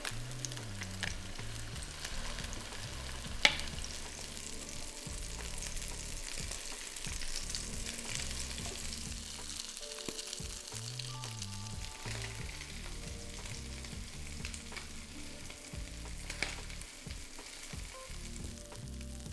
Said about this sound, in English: Add half the patties to the pan and cook for about 6 to 7 minutes, carefully turning once until golden brown and cooked throughout.